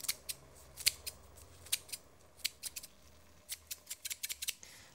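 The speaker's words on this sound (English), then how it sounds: "Lime leaves, just snip them in." Kitchen scissors snipping lime leaves into a pot, a quick run of sharp, close metallic snips in an irregular rhythm, some clustered rapidly, over a quiet background.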